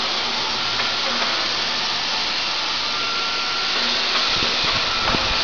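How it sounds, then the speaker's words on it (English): A 3D laser cutting machine cuts metal in a deep-drawing parts factory, giving a steady, loud broadband hiss and roar with faint tonal whines and a few sharp ticks near the end. "is the 3D laser cutting machine."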